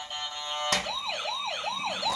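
A toy ambulance with lights switches on its siren, a sharp onset followed by a rapid rising-falling electronic wail repeating several times, close and alone.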